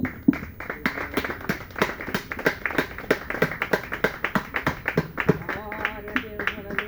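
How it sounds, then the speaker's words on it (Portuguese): Church congregation clapping in praise, a dense run of sharp, fairly regular hand claps close by, with voices and background music running underneath. "Vamos aplaudir o Senhor em nome de Jesus."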